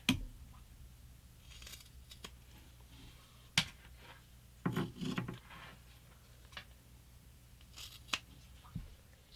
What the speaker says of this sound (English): we're just going to trim the fabric so that it's even with the long edge of the zipper.